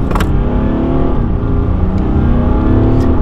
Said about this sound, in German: Man hört dem V6 wirklich, der quält sich so ein bisschen.